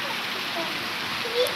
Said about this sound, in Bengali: ছাদের পানি পাইপের মধ্যে দিয়ে একেবারে নিচ পর্যন্ত পড়ছে।